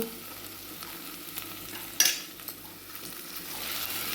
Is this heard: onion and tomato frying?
yes